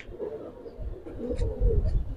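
A silver pigeon coos softly and close by, a few low throaty calls over a faint background rumble.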